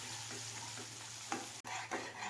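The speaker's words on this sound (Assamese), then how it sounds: "এতিয়া পিচি ৰখা সৰিয়হখিনি দি এয়াও মই ভালদৰে লৰাই ল'ম।" Ground mustard paste frying in hot oil in a wok, stirred steadily with soft sizzling and scraping, a brief louder clatter near the middle and a short break before the stirring resumes; no one speaks.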